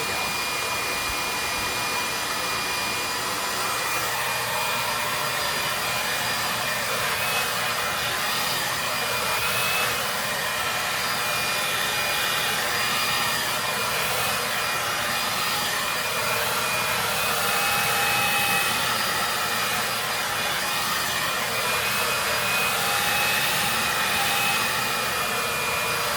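A hair dryer blows steadily during an at-home hair blowout, a constant airy whoosh running unbroken and loud for the whole stretch, with no talk over it.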